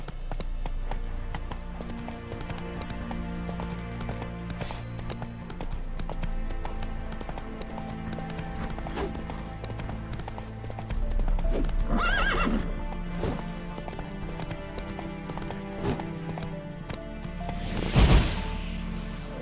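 A horse in The Witcher 3 game gallops with steady close clip-clop hoofbeats under game music and ambience, with a loud neigh near the end.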